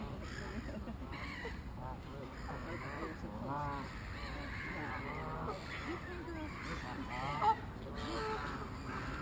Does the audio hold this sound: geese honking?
yes